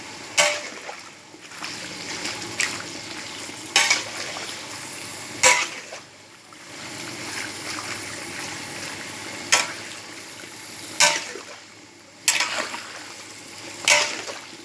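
Pork rinds fry in hot oil with a steady, close sizzle, broken by brief louder scraping swells as they are stirred every couple of seconds; no one speaks.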